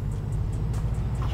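Car fitted with an aftermarket exhaust gives a steady low rumble throughout, a continuous engine drone at moderate loudness with no voices.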